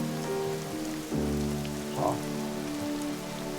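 Steady rain falls throughout, a dense, even patter on a surface, with a man's short word and some background tones over it.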